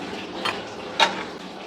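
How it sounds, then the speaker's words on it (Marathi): Grated raw potato mixed with coriander, green chilli and gram flour in a bowl gives two brief close clinks of a utensil against the dish over a quiet background. "थोडेसे बेसन पीठ टाकून आपण हे मिक्स करून घेणार आहोत"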